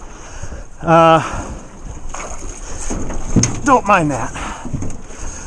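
Blazer Marine Backlash Gen 3 RC boat on the water, its small engine buzzing with a rising then falling whine, mixed with wind noise on the microphone and someone talking over it.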